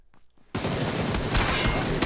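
Rapid gunfire in a shooter video game, a sudden loud burst of single-tapped shots that starts about a half second in after near silence and keeps up densely to the end.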